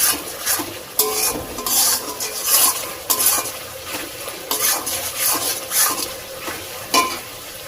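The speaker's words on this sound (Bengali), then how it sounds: "এইভাবে ভালো করে কষিয়ে নিতে হবে মশলাটা" Spice masala stir-fried in a pan for Bengali hilsa fish pulao in a village kitchen, with a spoon scraping and stirring in repeated rhythmic strokes over a soft sizzle.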